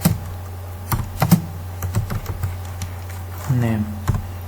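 Code typed on a computer keyboard in quick irregular bursts of close, crisp key clicks, with someone talking between and over the keystrokes.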